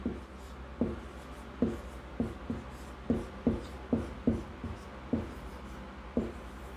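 Pen writing notes on paper, a series of short scratchy strokes in an uneven rhythm, close and fairly quiet, with no talk.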